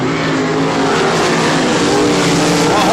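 Sprint cars racing at Humberstone Speedway, a loud sustained roar of several engines with shifting, overlapping pitches as the cars circle close by, a commentator's voice faintly mixed in.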